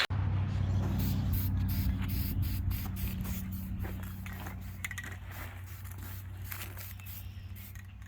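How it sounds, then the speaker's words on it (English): Spray paint hisses steadily and close up as a truck drive shaft is coated outdoors, one long continuous spray that fades slightly over several seconds with faint clicks and handling noises. "I'm gonna try and paint this whole shaft, but I need more room."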